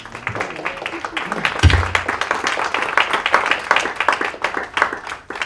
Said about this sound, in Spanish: Mejor que le aplaudan a Carmen.